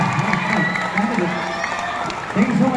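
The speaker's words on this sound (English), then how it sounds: "There they are cheering you there" An audience at a transgender pageant, Queens of Queens in Puerto Princesa, cheers and shouts for a candidate. Mixed voices whoop in a lively crowd roar, swelling again at the end, with a host speaking over it.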